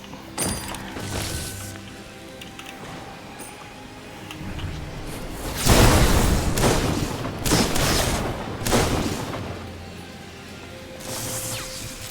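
Lightning spell attacks in the video game Spellbreak, a series of loud crackling electric bursts and booms, with the strongest blasts clustered in the middle and a few sharp cracks early and late.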